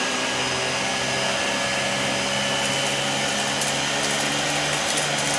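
A Dyson DC17 upright vacuum cleaner runs with its second motor engaged, giving a loud, steady high-pitched whine and rushing airflow that continues unbroken throughout.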